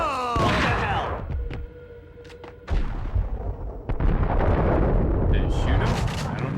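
A gunshot in Max Payne, with sharp thuds and bangs among dense action sounds, partly under people talking.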